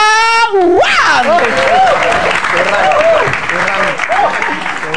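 Loud, dense applause from a stand-up comedy audience welcoming a comic to the stage, filling the room with cheers and whoops. A voice rings out briefly at the start before the clapping swells and stays steady.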